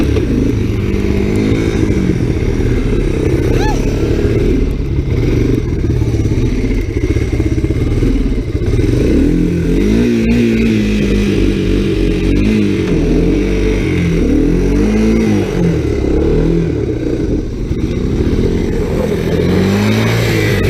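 A Honda XR 100 dirt bike ridden through snow revs loudly and close, its small engine rising and falling in repeated surges with clattering and thumps over bumps.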